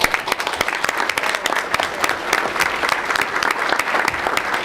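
A large audience at a county board meeting claps steadily and warmly to welcome Sunny Hill residents, the dense applause holding at an even level throughout.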